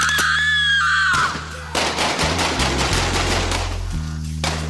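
Gunfire in a tense street hold-up, with a burst of sharp, loud cracks from a Beretta pistol over music and a droning backdrop, several shots packed close together.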